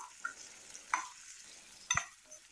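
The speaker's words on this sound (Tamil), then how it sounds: "சேர்த்துட்டு இந்த வெங்காயம் வந்து நல்லா பொன்னிறமாக வதங்குற அளவுக்கு வதக்கி விடுங்க." Onions and green chillies sautéing in a pan for Tamil-style dal, a faint steady sizzle broken by two brief clinks of a spoon against the pan.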